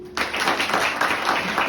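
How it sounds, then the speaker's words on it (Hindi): Seminar audience applauding on cue from a stage speaker, a dense burst of many hands clapping that starts abruptly and holds steady and fairly loud for its short length. "चाहता हूं जोड़ ताली हो"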